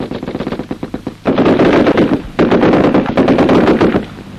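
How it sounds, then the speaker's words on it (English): Indian Army machine gun firing at a range, a rapid run of sharp shots followed by two longer, louder sustained bursts, close and dominant with no talk. "Indian Army soldiers are deadly with a machine gun."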